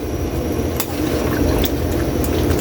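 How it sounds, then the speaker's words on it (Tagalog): About one glass of water pours into a pan of pork as it cooks, making a steady, loud splashing and sizzling wash that runs without a break. "pwede tayo maglagay dito Kaylee ng tubig. Mga 1 baso lang para maluto lang yung pork natin"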